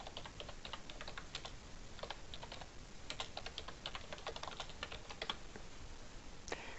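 Close, quiet typing on a computer keyboard in a repair shop, with irregular bursts of key clicks and short pauses throughout, and no voices.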